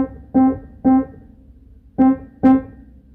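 Morse code for "hi" tapped out on a piano: four short notes on one pitch, a pause, then two more short notes, each clear and sustained briefly in a quiet room.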